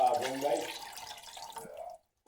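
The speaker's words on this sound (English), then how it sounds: "We're gonna add 2 cups of water." Water poured into a pan for biscuit gravy, a steady splashing pour running close by for about two seconds before stopping, with people talking over it.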